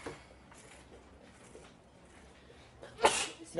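A person sneezes once, a sudden sharp burst near the end after a quiet stretch of faint background sound.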